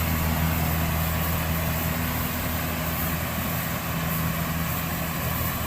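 Kubota small rice combine harvester engine running steadily, a continuous low droning hum with a constant tone, close and moderately loud, no speech.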